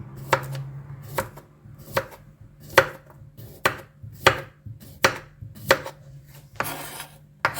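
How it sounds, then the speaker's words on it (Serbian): A knife chops a cucumber on a board in a home kitchen, about a dozen crisp, evenly spaced cuts at a steady rhythm, close and clear, with no talk. "Sa seckanjem ovog krastavca"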